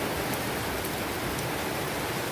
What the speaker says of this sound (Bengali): বাইরের পরিবেশটা কত সুন্দর, মানে হালকা হালকা বৃষ্টি পড়ছে, এত সুন্দর লাগছে বৃষ্টিটা।